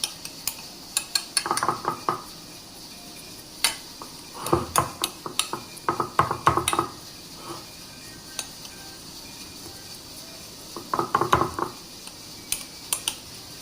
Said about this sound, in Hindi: चम्मच की मदद से हम अच्छे से प्रेस कर लेंगे इसे